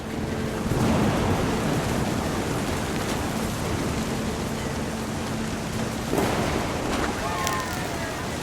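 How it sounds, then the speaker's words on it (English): A thunderstorm rumbles through the video game What Remains of Edith Finch, a dense continuous roar of rain and thunder with a sharper crack partway through, loud and unbroken throughout. "thunder sounded much too close and full of angry power"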